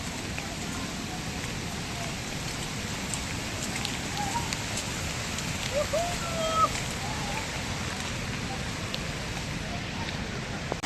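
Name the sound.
heavy rain falling in forest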